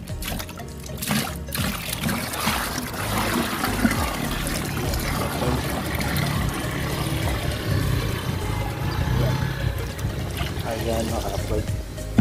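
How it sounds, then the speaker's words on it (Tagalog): Water pours and splashes steadily into an old bucket, with a voice talking over the continuous trickle and gush. "Ito, patapos ng pagpanlaw namin dito, dito naman ibubuhos ang tubig yan."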